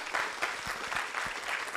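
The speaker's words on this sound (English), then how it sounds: "another round of applause for our young minds" An audience claps in steady, sustained applause for students at a university quiz event, a dense patter of many hands heard from within the hall.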